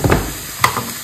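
Chilli and salt drop into a hot frying pan, giving a short burst of sizzling with a quick stirring clink partway through. The whole sound lasts about a second.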